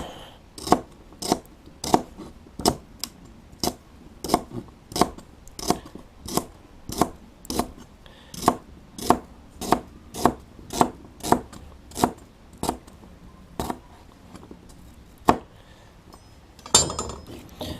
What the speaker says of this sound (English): So when I cut up the stalks, I like to cut them in pieces of about half an inch or a little bit smaller.